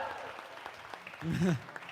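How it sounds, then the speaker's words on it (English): Applause from a small crowd at an award ceremony swells briefly amid cheering voices and chatter, rising near the end before fading. "Let's give him a big round of applause."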